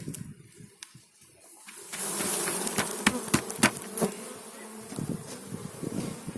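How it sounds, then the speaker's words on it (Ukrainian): Dense, steady buzzing of many Carniolan honeybees close by at an open hive, with sharp clicks and taps scattered through the middle and end. "Чи бджола, як бачите, купа бджоли."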